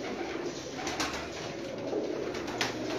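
Massed cooing from a big rooftop pigeon flock, thousands of birds, forms a thick unbroken wash of low calls with occasional brief flutters.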